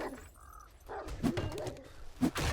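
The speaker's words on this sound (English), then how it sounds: "Coyote inside." A coyote in 7 Days to Die gives short yelping, doglike barks and whimpers, a few brief calls at moderate volume over faint background noise.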